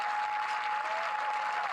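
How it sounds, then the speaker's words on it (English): A stadium crowd at the Austrian Open athletics meet in Eisenstadt claps for a popular discus thrower, a broad, even spread of applause at moderate distance, holding steady throughout with a faint tone running underneath. "takes the applause of the crowd"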